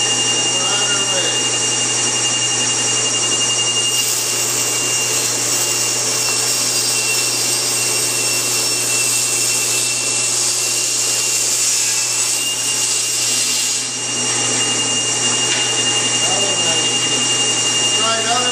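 A table saw fitted with a Microkerf40 blade runs with a loud, steady high-pitched whine and roar while cutting material, continuous and close for the whole stretch with no break in the sound.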